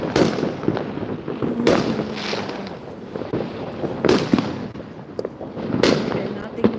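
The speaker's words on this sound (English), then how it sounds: "Fireworks everywhere, guys." New Year fireworks burst repeatedly, close and distant cracks and booms rolling into a dense crackle outdoors on a cold night, with voices faintly mixed in.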